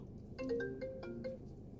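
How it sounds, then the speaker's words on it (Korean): An incoming-call telephone ringtone plays a short melodic run of bright electronic tones, fairly quiet and heard on its own with no talking. "전화 오셨다"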